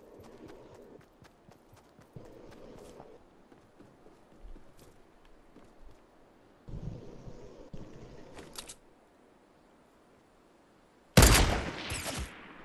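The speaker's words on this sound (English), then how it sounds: "Getting shot at." Gunfire in a battle royale video game, several short bursts of shots, the loudest near the end, over quiet in-game background sound.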